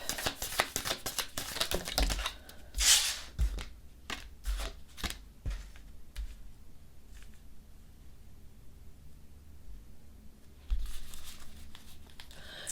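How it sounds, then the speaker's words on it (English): A tarot deck is shuffled and riffled in repeated bursts, crisp flicking and snapping close up, with quieter pauses between rounds. "I'm going to go ahead and shuffle the cards for you."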